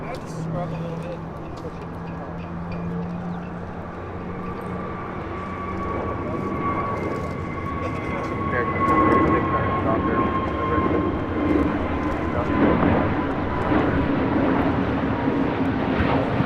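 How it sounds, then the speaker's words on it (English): An Avianca Airbus A320neo takes off at LAX, its engine roar swelling and growing louder over the clip while people talk nearby. "Next takeoff is Avianca Flight 641 heading to Guatemala City in A320 Neo."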